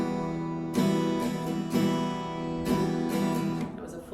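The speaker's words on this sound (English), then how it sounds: "we're going to be using the ballad strum. It sounds like this" Acoustic guitar played with a ballad strum over one full measure, chords ringing steadily with repeated down and up strokes, moderately loud and alone.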